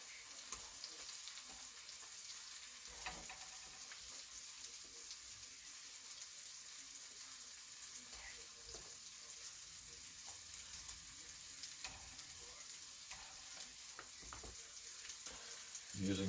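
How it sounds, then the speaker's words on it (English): Home-grown potatoes and onions frying in butter in a pan, a steady, even sizzle that runs throughout with no talk. "I'm using butter to fry them in."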